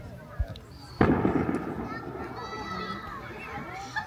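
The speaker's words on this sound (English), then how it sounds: "That gunfire indicates we're halfway through totality." A single sharp gunshot cracks outdoors during a total solar eclipse in Southern Illinois, followed by a rumbling echo, with crowd chatter and voices around it.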